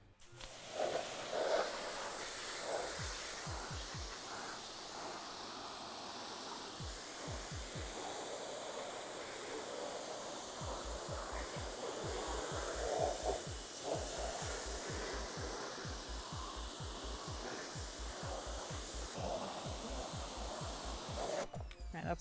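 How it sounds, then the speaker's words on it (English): A pressure washer sprays steady hissing water over car floor mats in a home garage detailing setup, a continuous loud rush broken by rhythmic low thumps throughout. "now we'll grab the pressure washer, get these rinsed off"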